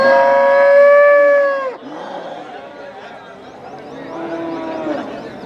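A long, loud moo from native cattle rings out, then gives way to a murmur of voices and background noise from a busy crowd at the Melapalayam cattle market.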